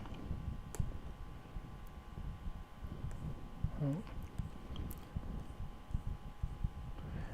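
A computer mouse gives a few sharp, sparse clicks at irregular intervals, close and quiet, over low room noise with a brief murmur of voice.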